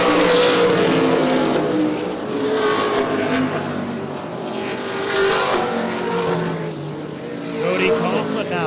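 Stock cars in the ARCA/CRA Super Series race at Baer Field Motorsports Park, their engines roaring and swelling as they pass, with a commentator talking over the loud, fluctuating motor noise.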